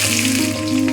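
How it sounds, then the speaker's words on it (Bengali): Chopped onion frying in hot oil in a pan after bay leaf, cumin and dried red chilli, a loud steady sizzle held close throughout, no voices. "পেঁয়াজটাও ভেজে নিব।"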